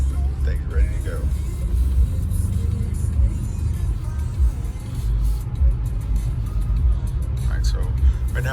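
A BMW X6M Competition drives in regular road mode, its low engine and road rumble steady and close from inside the cabin while someone talks over it.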